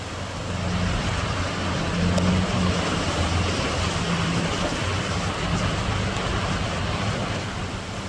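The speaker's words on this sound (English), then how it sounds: "water running, literally overflowing" Water from a small landslide near Ketchikan, Alaska, gushing and overflowing down a hillside, heard as a loud, steady, broadband roar with no talking.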